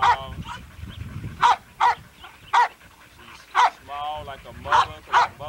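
Dogs bark in a kennel yard, loud, sharp barks repeated in an irregular series of about nine close-range bursts, with someone talking quietly between them.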